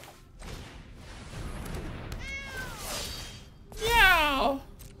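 A cat meows twice, a short call and then a louder, drawn-out one, over a soft background hum.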